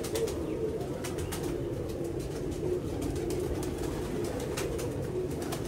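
Soft, repeated pigeon coos sit under a constant background hum, with no one speaking.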